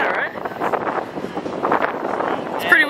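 Steady wind rumbling and buffeting across the microphone beside a river, with a voice talking over it throughout.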